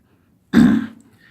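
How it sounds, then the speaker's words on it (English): One short, harsh throat clear bursts out close by after a moment of silence, then trails off quickly. "I'm just clearing my throat again."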